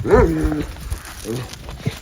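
A dog on a farm gives a short howling, whining call up close, followed by a few quieter, softer vocal sounds.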